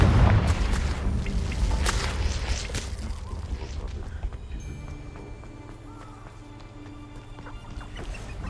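A Confringo blast spell explodes in the Hogwarts Legacy video game: a loud, deep boom bursts out at the start, then rumbles and fades into a lower, steadier game soundscape.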